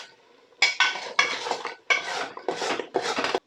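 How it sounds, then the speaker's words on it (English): Potatoes are stirred and tossed in a cooking pot for an aloo gosht balti, giving close, loud bursts of scraping and clattering, about five in a row with short gaps. "Now we're going to stay on the potatoes, toss and turn them."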